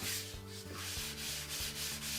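A hand rubs across a DIY concrete countertop with a soft, continuous scraping hiss in short back-and-forth strokes, close by and steady.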